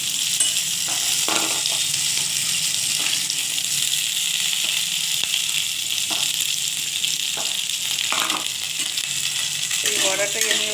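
Potatoes frying in hot oil with black cumin seeds and green chili, a steady close sizzle throughout with occasional stirring scrapes and clinks of a utensil against the pan.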